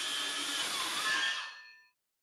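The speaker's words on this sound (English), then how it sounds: "We'll trim it using the circular saw." A circular saw trims a sheet of hardboard to make a cutting jig with an aluminum angle bar; a steady whining cut runs for about two seconds, then the blade spins down and stops.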